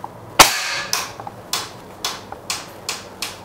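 A Vajra .177 air rifle fires a pellet at a target: one sharp, loud crack followed by a series of lighter mechanical clicks and snaps spaced roughly half a second apart.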